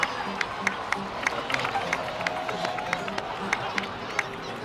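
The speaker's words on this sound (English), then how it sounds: "please give another round of applause for them" Scattered applause and cheering from a crowd celebrating heroes in the Genshin Impact video game, with sharp individual claps over a murmur of background babble and a soft music bed.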